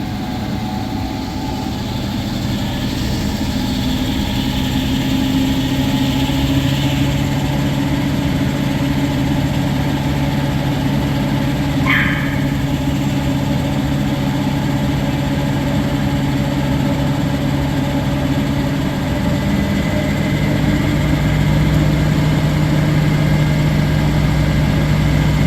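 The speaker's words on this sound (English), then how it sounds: "Here it's actually spinning so fast it's actually shaking." An Electrolux SWTX21WN3050 top load washing machine spins fast enough to shake, giving a steady, loud, continuous mechanical hum with a low rumble that holds throughout, with no talking.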